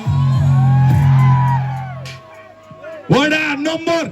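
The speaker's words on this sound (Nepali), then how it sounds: "वडा नम्बर 6 को लागि हल्ला गरिदिऊ है जोरदार" Crowd at an outdoor stage show shouting and cheering, with sustained voiced yells up front, then a second loud burst of whoops and shouts near the end; a nearby voice calls out over the noise.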